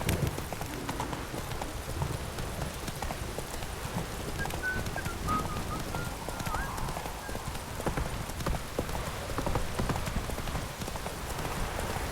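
Roach, Geralt's horse in The Witcher 3, gallops with a steady rapid clip-clop of hooves under a constant broad background rumble, continuous and close throughout.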